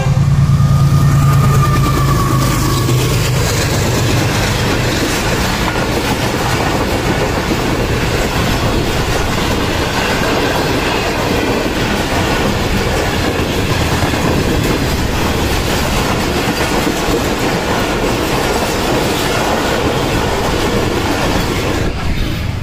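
A train passes a closed railway level crossing near the GT Road at Okara Cantt, a loud near rumble with rhythmic wheel clatter and squeal that sweeps by and runs on steadily for over twenty seconds.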